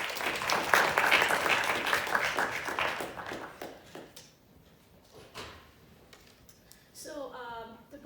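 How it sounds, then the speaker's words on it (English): A university audience at a talk on Dalit writing applauds a speaker. Brisk clapping lasts about three seconds and then dies away, leaving quiet room sounds before a voice begins to speak. "Big round of applause for Yashica"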